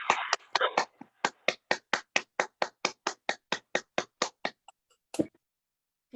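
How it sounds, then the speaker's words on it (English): Applause for scholarship recipients at a nursing association awards event: a single pair of hands claps about eighteen times in an even, crisp rhythm, close and alone, then stops. "let's join in a round of applause for all of our scholarship recipients"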